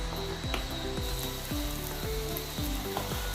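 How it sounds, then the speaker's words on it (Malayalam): Masala frying in a hot kadai while being stirred, a steady loud sizzle with repeated scraping strokes of the spoon at an even rhythm, close up with no voices. "ഒന്ന് ഇളക്കി കൊടുക്കാം"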